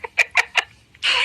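A person imitates a chicken or turkey gobbling with four quick clucking bursts followed by a longer, harsher squawk, close and clear.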